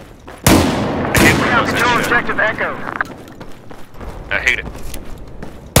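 Battlefield 4 multiplayer Conquest match on the Operation Locker map, with loud close bursts of gunfire and explosive booms in fast succession, then quieter scattered shots, while a player speaks briefly over the action.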